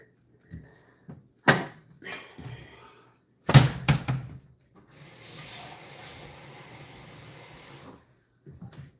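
After a few thuds and clatters, water runs from a tap for several seconds, a steady hiss, followed by faint movement.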